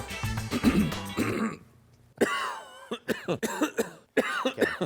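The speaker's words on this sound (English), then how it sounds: "my favorite blooper is me coughing" Repeated coughing and throat clearing edited together in a blooper reel, a rapid series of close, loud coughs in quick succession with short gaps between bursts.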